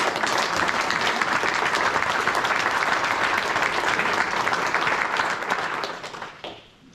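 A packed, standing-room-only crowd at a community forum in Doylestown gives a loud, dense round of applause lasting several seconds before tapering off at the end.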